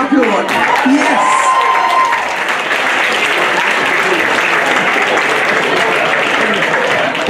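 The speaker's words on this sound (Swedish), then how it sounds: "Ge dem igen en stor applåd." Enthusiastic applause and cheering for burlesque performers at a live show, loud dense clapping with whoops early on, continuing steadily for several seconds.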